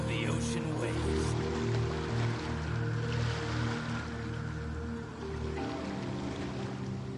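Ocean waves wash in the Genshin Impact video game, a steady, close surf roar with soft sloshing swells and a low rumble underneath, and no voices over it.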